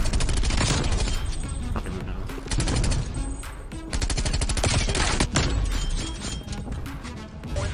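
A light machine gun fires in Call of Duty: Black Ops Cold War as dense, rapid automatic bursts run nearly nonstop at close range, with a player talking over them.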